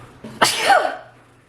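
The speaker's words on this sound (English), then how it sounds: "Ooh, that was my first sneeze since surgery." A single sharp sneeze bursts out close by, a quick intake followed by an explosive, breathy release that trails off into quiet.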